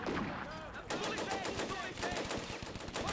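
Rapid bursts of machine gun fire crackle in the World War II strategy game Combat Mission: Barbarossa to Berlin, during a battle to retake Viipuri, with dense staccato volleys layered over continuous battle noise throughout.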